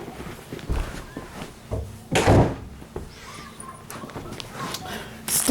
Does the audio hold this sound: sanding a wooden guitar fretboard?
no